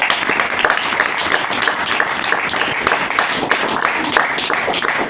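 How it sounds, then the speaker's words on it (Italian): An audience at a book series presentation in a cabaret venue applauds, with dense, sustained clapping from many hands, close and steady throughout. "io ringrazio di nuovo Daniele Mattei, per cui chiedo un ultimo applauso"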